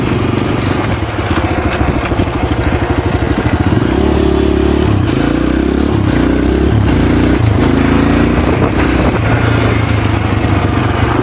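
Dirt bike engine revving loud and close, the pitch climbing and dropping repeatedly as the rider shifts up through the gears into fourth, with continuous clattering engine noise throughout.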